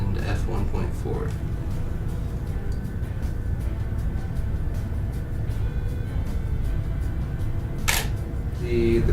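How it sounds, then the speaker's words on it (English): A single-lens reflex camera fires a shot with flash at 1/80 s and f1.4 in an indoor apartment, a brief sharp shutter click near the end over steady room noise. "I'm going to take my first shot here."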